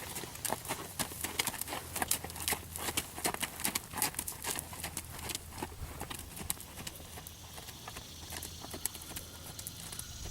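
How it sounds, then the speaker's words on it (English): Horse hooves clip-clop steadily as a horse canters around a jumping arena, the rhythmic beats loud and close, with occasional faint voices behind them. "you're gonna have to keep him cantering through the corner"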